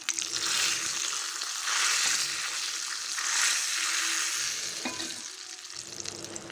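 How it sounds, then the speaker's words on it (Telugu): Cumin and mustard seeds crackling and sizzling in hot oil for a tempering, a bright continuous fry with small pops and a few stirring scrapes, close and with no talking. "జీలకర్ర ఆవాలు రెండు అట్టే టైం వేసేసాను ఇది కొద్దిగా చిట్పట్లాడగానే"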